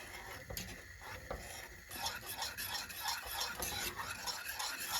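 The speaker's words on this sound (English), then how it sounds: "add 100 grams of white chocolate and stir until it will completely dissolve" Coconut cake cream with white chocolate stirred in a heated bowl, soft, continuous scraping and swishing of a utensil against the bowl with faint clinks, quiet and close, growing busier partway through.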